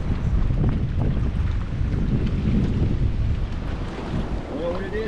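Heavy wind buffets the microphone during kayak fishing on a small river, a loud continuous low roar with water sounds and faint vocal traces near the end.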